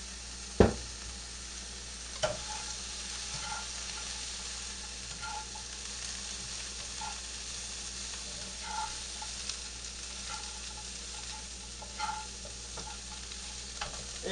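Mushrooms sizzle in olive oil in a pan on high heat: a steady, fairly quiet frying hiss throughout, with a sharp utensil knock near the start and a few lighter clinks of stirring, and no talking.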